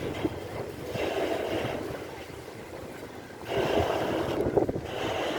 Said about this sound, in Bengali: দুটো লঞ্চ পাশাপাশি চলে এসেছে।